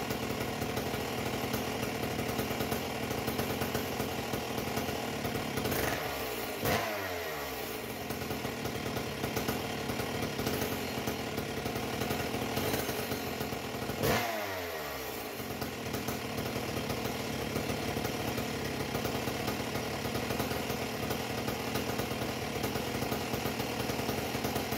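A Husqvarna 268xp chainsaw fitted with an exhaust pipe runs loudly and steadily close by, a harsh continuous engine drone with two brief revs and dips, no voices.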